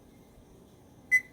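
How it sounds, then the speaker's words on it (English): An oven timer gives one short, sharp electronic beep near the end while being set, after a quiet stretch of low room noise in a home kitchen during cake baking. "I'm going to set my timer for 28 minutes"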